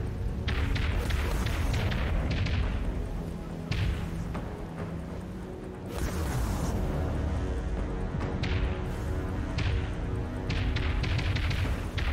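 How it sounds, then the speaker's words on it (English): Heavy volleys of flechettes launched from a capital ship in the Dreadnought space combat game, a dense run of repeated booming thuds and crashes that fills the whole stretch loudly and continuously. "Flechette's launched, Captain."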